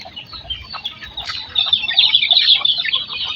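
Several fat hens cluck and chatter at feeding time on a farm, a steady busy flock close by that grows louder partway through, with no talking.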